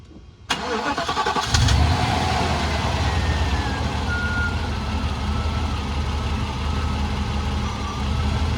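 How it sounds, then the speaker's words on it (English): A Mercedes W126 car engine cranks and catches, then settles into a loud, steady idle that continues to the end. "Let's get this car started."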